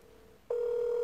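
A telephone call being placed: a faint low tone gives way to a single loud, steady electronic ring tone lasting about half a second before cutting off, with no one speaking.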